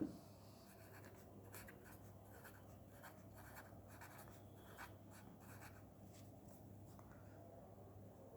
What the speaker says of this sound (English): So first let me write down the question.